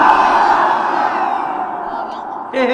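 A large crowd at a Bengali religious sermon roars the takbir in unison, a loud sustained chant of many voices that tapers off, then a single voice breaks in at the end.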